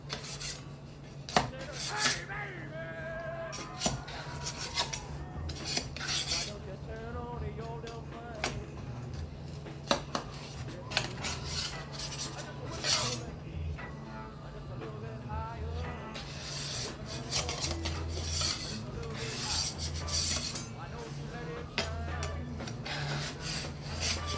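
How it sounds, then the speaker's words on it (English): Scraping and rubbing as a baked Sicilian pizza is pried loose from its metal pan, with repeated close scratchy strokes and small clatters working around the edge over a steady low hum. "I'm gonna just pry it, pull it a little bit away from the pan."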